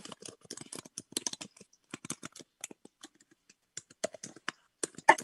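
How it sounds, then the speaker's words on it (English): Rapid typing on a computer keyboard, a close, crisp patter of clicks in uneven bursts with short pauses, heard alone and fairly quiet. "I only hear you typing"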